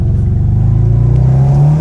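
A car engine revs and accelerates up close, a loud, low rumbling drone that climbs steadily in pitch over a couple of seconds.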